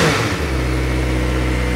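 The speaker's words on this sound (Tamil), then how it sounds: "இப்போ நான் ஜஸ்ட்டு வந்து இந்த வண்டியை வந்து ஸ்டார்ட் பண்ணுறேன், எப்படி இருக்குது அப்படின்னு சொல்லி பார்க்கலாம்." Kawasaki ZX4R motorcycle engine firing up in neutral, a brief start burst settling into a steady, flat exhaust note at idle, loud and close with no talking.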